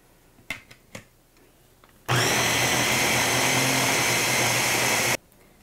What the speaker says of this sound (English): we blended it down, not super chunky, but I prefer a blended salsa